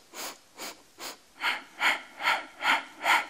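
Eight rhythmic breaths, each a soft airy inhale or exhale, are heard close to the microphone during a Pilates exercise with a small ball, growing stronger after the first three.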